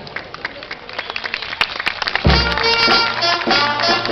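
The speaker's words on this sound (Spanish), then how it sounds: "Ahora continuamos con un fuerte aplauso para el Nido Jardín Esther Festini." Applause for a kindergarten group at a school Independence Day parade in San Isidro, Lima, breaks out halfway through, loud crowd clapping following a stretch of faint street noise with a voice over a loudspeaker.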